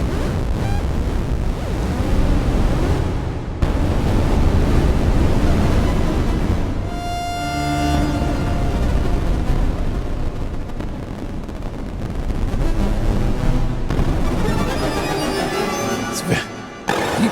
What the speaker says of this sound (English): we have granular cloud. This is very experimental, but nice with a lot of reverb.